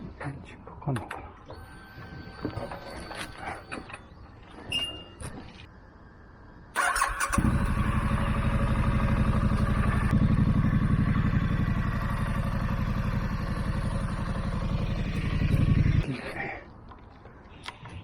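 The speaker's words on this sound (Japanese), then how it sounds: "エンジンかかんのかな。" A Triumph Street Scrambler motorcycle cranks and fires up after blowing over in strong wind, then settles into a loud, steady idle close by, following some clicks and handling noises, with someone speaking briefly beforehand.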